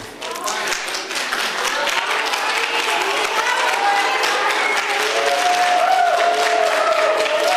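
Audience applause fills a hall during a speech event in Zurich, steady dense clapping throughout with a murmur of crowd voices and a faint cheer mixed in.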